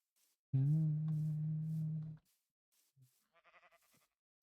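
Sheep in the Minecraft video game bleat: one long, wavering bleat for over a second, then a brief faint note and a short burst of quieter stuttering bleats, all alone and fairly quiet.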